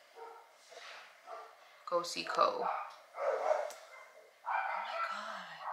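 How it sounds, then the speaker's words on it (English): Neighbors' dogs bark in repeated yipping bursts from a nearby backyard, moderately loud, mixed with a person talking over them. "Do you hear the neighbors? Do you hear the dogs?"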